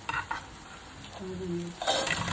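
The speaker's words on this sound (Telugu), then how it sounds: "రుచికి సరిపడినంత సాల్ట్ వేసి ఒకసారి కలుపుకోవాలి." Salted fried potatoes are stirred in a pan, with scraping strokes at the start and end over a soft, steady sizzle and a brief low tone in the middle.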